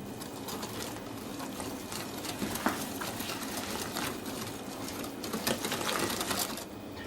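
Eggnog and self-raising flour batter is mixed in a bowl, a steady busy scraping and clattering with small irregular knocks throughout, close and fairly loud.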